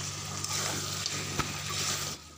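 Goat trotters sizzle steadily as they are stirred and fried with spices in a pan, a close, continuous frying hiss with faint scraping strokes and no voices.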